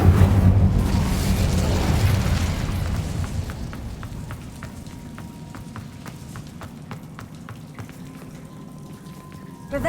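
The Incendio fire spell is cast in Hogwarts Legacy: a loud, rushing burst of flame at the start, then a long, steady crackling hiss that thins out slowly. Faint game sounds play in the background.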